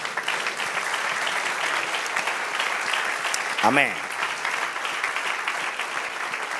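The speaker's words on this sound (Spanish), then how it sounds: "Dale un aplauso al Señor." Congregation applauding during a church service, a steady wash of clapping that holds through the clip, with a brief spoken word rising over it near the middle.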